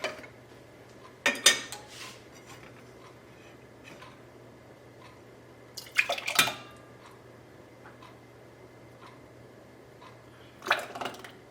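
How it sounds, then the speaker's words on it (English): A glass pint jar of homemade tomato soup is set down into a metal pressure canner, giving three separate clinking, rattling knocks spread out over a quiet background with a low steady hum. "then I'll put it right into the pressure canner"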